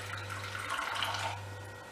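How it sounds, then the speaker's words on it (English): Warm tap water runs steadily into a measuring jug while making up a currant teacake dough, a faint, continuous trickle under a low background hum. "make that up to 110 with warm water"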